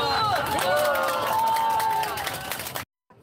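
Crowd applause and cheering at a Korean political campaign rally for a National Assembly member, dense clapping with voices over it for nearly three seconds before cutting off abruptly into silence.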